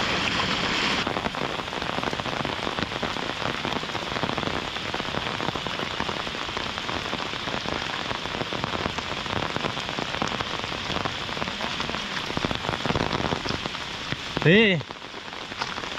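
Heavy monsoon rain pouring down steadily and densely on surfaces, a constant loud hiss lasting throughout, with a brief voice near the end.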